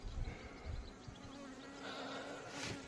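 Honeybees in an opened spring hive buzz softly and continuously close by, a faint steady hum with occasional louder passes as individual bees fly near.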